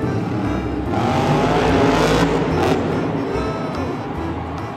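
A toy monster truck's engine gives a steady, loud whirring rumble that swells and fades slightly over a few seconds, with no talking.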